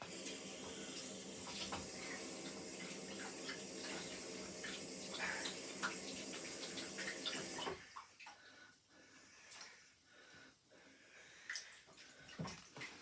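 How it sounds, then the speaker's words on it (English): A kitchen tap runs in a steady, close rush while fingers are rinsed during dumpling making, then shuts off after about eight seconds, leaving quiet handling noises. "I just need to rinse my fingers and then I'll flour my hands."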